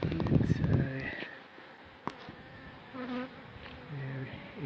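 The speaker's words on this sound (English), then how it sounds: "The bees are upset, understandably." Agitated honeybees swarm around a hive in a freshly felled tree, their buzzing dense and close, swelling and fading as individual insects fly near, with a sharp knock partway through.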